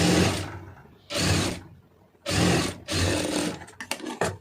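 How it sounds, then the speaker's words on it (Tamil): Sewing machine stitching fabric in loud, near bursts of whirring motor and needle, four runs of about half a second each separated by pauses, ending with a few quick clicks. "இப்போ இதில் அப்படியே வச்சு தையல் போட்டுடலாம்"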